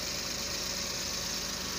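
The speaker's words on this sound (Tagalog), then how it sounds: "So tahimik, walang vibration ang makina." Daihatsu DA63T Multicab engine idling quietly at close range, a steady low mechanical hum with a faint even pulse and no roughness or surging.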